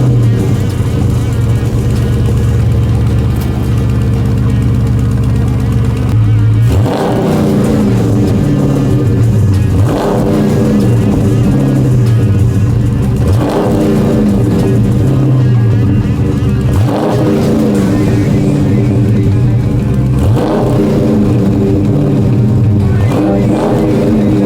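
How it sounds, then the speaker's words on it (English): A car with stock mid mufflers cold-starts after a few seconds of low rumble, then settles into a steady idle punctuated by about five sharp revs spaced a few seconds apart, loud and close with no talk. "let's do a cold start with the mufflers and show you what it sounds like right now"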